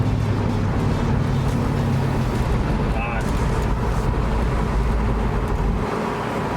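A 1979 Pontiac Trans Am on fresh tires driving down the road, its engine drone and tire rumble steady and loud throughout as gears are shifted, with a voice talking over it.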